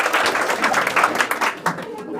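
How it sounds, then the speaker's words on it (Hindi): Audience applause greeting a performer at a school Children's Day celebration, a short burst of many hands clapping that tapers off, heard with voices mixed in. "तो एक बार जोरदार तालियों स्वागत कीजिए"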